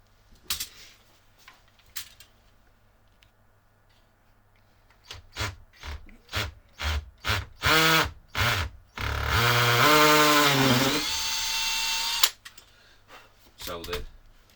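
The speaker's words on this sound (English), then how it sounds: "And then what we'll do is we'll drill those out." A power drill whirs in several short bursts drilling holes in a golf shoe, then runs continuously for a couple of seconds before stopping, with scraping and tapping in between.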